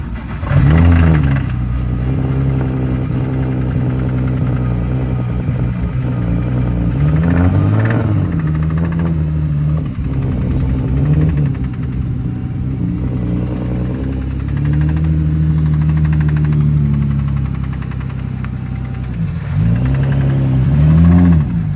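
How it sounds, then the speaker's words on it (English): A 2008 BMW E92 335xi with an N54 engine idles loudly nearby, its steady rough rumble broken by several sharp revs that rise and fall, with no talking over the engine. "I'll probably input the video here of when I started the car the day after the dyno"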